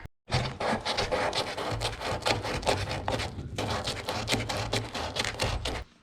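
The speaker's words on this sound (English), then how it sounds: "I forgot to kind of rub back the kind of bit of bog that I sort of spilled over into this bumper relief part" Hardened body filler gets rubbed back by hand on a 1951 Chevy Fleetline bumper relief, a close, dry rasping scrub in repeated back-and-forth strokes with a short pause midway.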